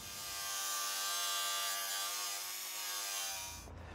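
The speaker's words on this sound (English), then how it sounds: "we're going to have a go at that with an angle grinder" Angle grinder with an abrasive disc grinding old weld beads off a Mercedes R107 steel floor pan, giving a loud continuous harsh rasp that holds steady for several seconds, then cuts off abruptly near the end.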